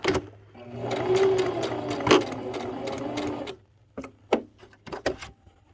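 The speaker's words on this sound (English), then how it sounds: "And then I'm gonna back stitch right there as well." A sewing machine stitches a ribbon skirt pocket, a close, continuous motor whir with rapid needle ticking for about three seconds, followed by a few scattered clicks and handling knocks as it stops.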